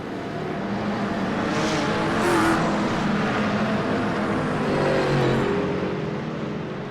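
A pack of GT3 race cars at Zandvoort in a racing video game roars past at speed, a dense continuous engine drone with swelling revs, loud and steady throughout.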